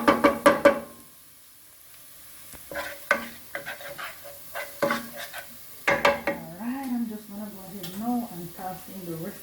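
Seasoning sizzles gently in a pan for Jamaican tin mackerel, with sharp clinks and scrapes of a utensil stirring against the metal, while a voice talks over the cooking.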